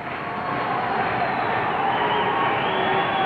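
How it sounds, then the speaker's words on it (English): Dense crowd roar fills a hockey arena during a 1980 Buffalo at Vancouver playoff game, a steady loud wash of cheering and noise with no clear breaks, the rhythmic clapping blurred into the sustained din. "as you listen and hear the action of the crowd and see their rhythmic applause"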